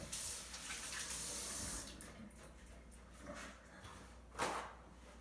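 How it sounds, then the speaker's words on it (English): Water from a kitchen sink tap running steadily while hands are washed after touching raw eggs, a soft, continuous splashing stream at close range with small shifts in flow. "I'm gonna wash my hands real quick."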